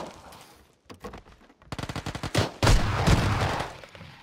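Gunfire in the battle royale game PUBG, with scattered single shots followed by rapid automatic bursts that build into loud, close sustained shooting.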